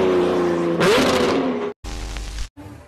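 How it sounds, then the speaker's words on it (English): A Lamborghini's engine revs hard through a new exhaust, climbing in pitch and roaring loudly, broken by abrupt cuts between bursts. "This Lambo driver shows off his new exhaust"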